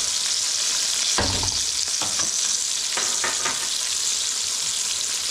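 Beer-battered catfish fries in hot oil with a steady, close crackling sizzle, broken by a few louder bursts and clatters as the pieces are turned over.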